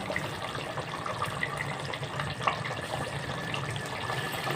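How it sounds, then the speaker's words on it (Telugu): Tamarind juice is poured into a simmering curry of small bommidayi fish, making a steady, continuous splashing pour with no talk. "ఇప్పుడు మనం దీనిలో చింతపండు పులుసు వేసుకుందాం"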